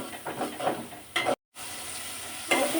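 Prawns frying in a hot pan give a steady sizzle with spatula stirring scrapes. A loud scrape comes just before a short full silence, then the frying hiss returns and a final stir follows.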